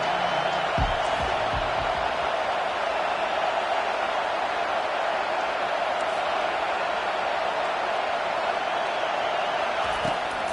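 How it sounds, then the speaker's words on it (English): Football stadium crowd roaring for the defense on third down, a loud, steady wash of cheering noise that holds for the whole stretch with no break. "Decibels rising as the crowd gets behind this defense on 3rd down."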